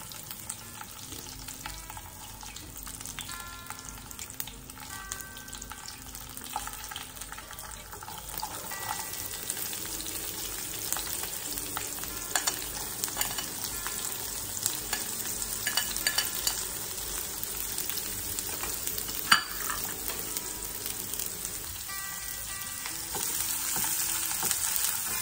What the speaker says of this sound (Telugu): మీకు ఒక మంచి బ్రౌన్ కలర్ వచ్చేటట్టు వేయించుకోండి.